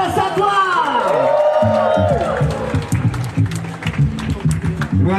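A crowd claps and cheers for the band at a live blues show, loud sustained applause with whoops as a speaking voice carries over it.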